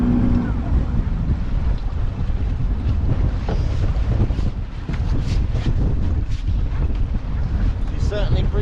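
Strong wind roars across the microphone on a fishing boat at sea during winter lobster fishing, a loud, steady buffeting rush with water and hull noise beneath it.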